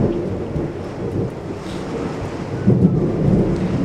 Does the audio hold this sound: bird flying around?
no